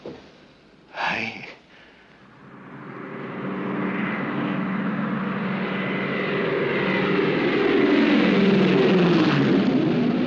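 A propeller airliner of Trans-Australian Airways arriving from Darwin, its engine drone building steadily from faint to loud and full as it approaches and passes close by, continuous and alone after a brief earlier noise.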